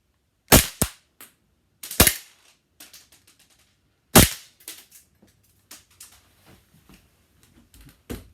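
A suppressed bullpup Glock 18C gas blowback airsoft pistol fires several sharp, dry, close shots spaced irregularly, with small clicks and rattles trailing between them and no talk.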